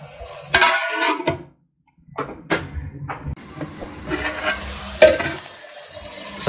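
Mutton and chana dal curry cooks in a pan as its water dries off, giving a steady sizzle and hiss with stirring scrapes, a brief quiet gap, then more close, moderately loud frying.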